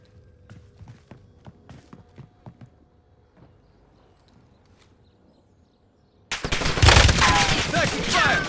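Gunfire in a battle royale video game, a run of quick muffled shots at a distance followed by a sudden loud, dense burst of close firing and noise, with a voice speaking faintly.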